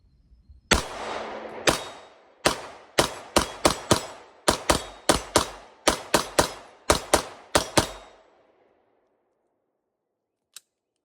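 Sig Sauer P226 Legion 9mm pistol firing about eighteen rounds, the first double action, sharp loud reports in a quick uneven string, each with a short ringing tail, then quiet with one faint click.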